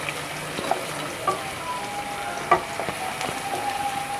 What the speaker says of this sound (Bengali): কালি জিরাটা দিয়ে ভালো করে নেড়ে ছেড়ে দেব।